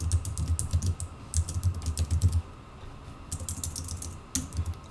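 Computer keyboard typing in bursts of light clicking keystrokes, set against a steady low mechanical hum, with a short pause midway before the typing resumes.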